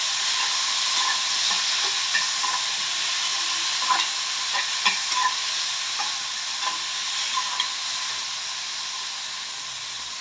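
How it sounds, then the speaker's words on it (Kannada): Chopped tomato and grated coconut fry in a pan for a fresh cowpea sambar, giving a steady close sizzle and hiss with a few soft stirring scrapes and no voices. "ಟೊಮೆಟೊ, ತೆಂಗಿನಕಾಯಿ ಇವೆಲ್ಲ ಹಾಕೊಂಡು ಚೆನ್ನಾಗಿ ಫ್ರೈ ಮಾಡ್ಕೋಬೇಕು"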